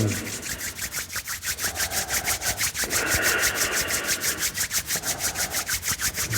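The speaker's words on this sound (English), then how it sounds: "Bring your palms together and rub them." Palms rubbed briskly together during a yoga breathing practice, a fast, steady back-and-forth swishing friction close to the microphone that continues throughout without talk.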